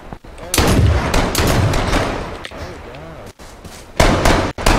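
Several loud, close gunshots crack out in the H1Z1 survival game, sharp bursts spread irregularly across a few seconds amid ambient noise, with players talking over the gunfire.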